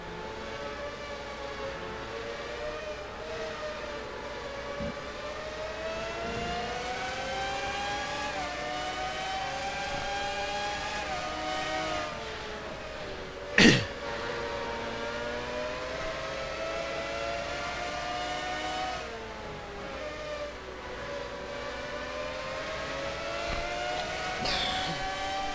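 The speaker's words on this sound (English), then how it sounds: "On board Kev Shearer's car 77." Race cars in an IndyCar racing video game scream around the Lime Rock track, a sustained high engine whine rising and falling with gear changes, one sharp click midway, no one talking.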